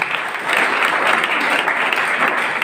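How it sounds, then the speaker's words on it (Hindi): Loud, thick applause from an audience at a government senior secondary school function honouring teachers, swelling after a brief moment and continuing steadily. "एक बार गुरुजन के जोरदार तालियां"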